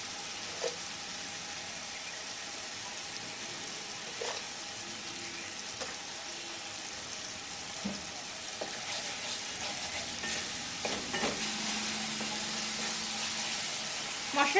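Ground coriander, pepper and salt being stirred and fried into a masala in a pan for egg malai curry, a soft continuous sizzle with occasional spoon scrapes and clinks.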